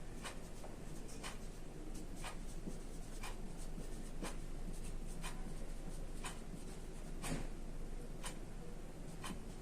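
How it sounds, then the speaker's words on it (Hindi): Marker or chalk strokes from a teacher writing on a board during a chemistry lesson, a steady series of short scratchy taps and squeaks repeating every half second or so over a quiet room, with no talking. "वही चीज मैं आपको इंग्लिश में आपको लिखती दे रही हूँ"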